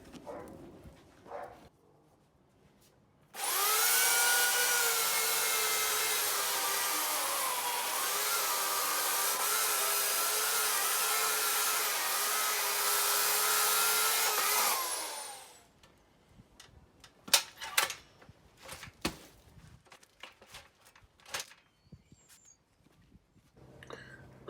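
Chainsaw slicing through the side grain of a wooden log for a turned bowl blank, a loud steady roar holding for about twelve seconds before cutting off, followed by scattered knocks and handling noises.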